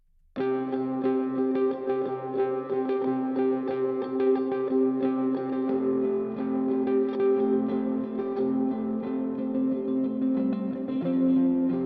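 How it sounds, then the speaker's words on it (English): A looping guitar riff of layered, sustained plucked notes plays steadily and continuously at an even volume, with some reverb and no voices. "for the guitars, I used archetype Pliny to make this little loop"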